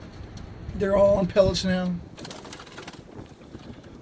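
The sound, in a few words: pigeons in a backyard loft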